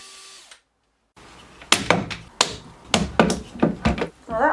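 Screws are driven to fix nail plates to the underside of wooden stairs, heard as several short bursts of power-tool whirring and knocking thuds on the wood, close and intermittent after a brief silence.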